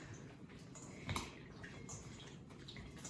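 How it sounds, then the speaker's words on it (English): Fresh raspberries being rinsed under running water, a soft steady trickle and splash at low volume with a brief louder spatter midway. "So I'm just giving them a good rinse."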